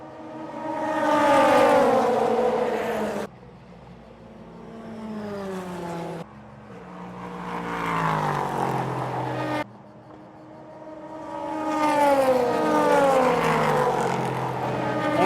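Endurance race cars, including LMP2 prototypes, roar past at the ELMS 4 Hours of Le Castellet circuit, several loud high-revving pass-bys rising and falling in pitch with sharp gear-shift breaks between them.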